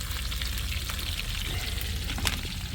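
Fish sizzles steadily in a frying pan, a dense, even hiss of hot oil running throughout with no talk.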